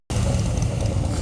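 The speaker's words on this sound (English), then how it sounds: "And the old two-stroke, just gassing out the Harley there." An old two-stroke motorcycle engine starts up abruptly out of silence and runs as a steady, close, buzzing rumble for about a second.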